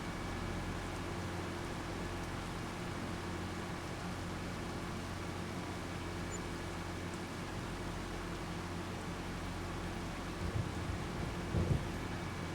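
A steady wash of rain with a low thunder rumble fills a storm in the farming game Farming Simulator 25, constant and even throughout, with a slightly louder rumble near the end and no talking.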